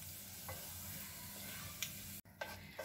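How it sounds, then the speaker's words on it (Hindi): Whole cumin and coriander seeds roast in hot oil for a tawa bhindi recipe, giving a quiet, steady sizzle with a few faint clinks and stirring scrapes. "अब हम इसको अच्छे से भून लेंगे इसमें तेल में।"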